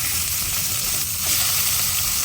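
Burger patties sizzle steadily in a pan at a campsite, a continuous close frying hiss with a faint shift partway through as they are flipped.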